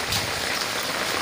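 Steady, fairly loud rain falls and patters continuously on surfaces near the listener during Ganesh mandap preparations, a dense unbroken hiss with no speech.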